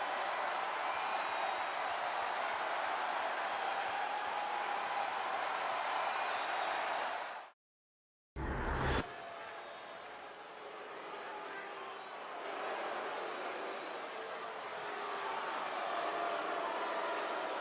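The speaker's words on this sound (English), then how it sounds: "This crowd is downright electrifying here tonight." Arena crowd noise from a WWE 2K22 wrestling video game event, a steady roaring wash of cheering that drops out briefly, then returns slightly lower under commentary-style talk.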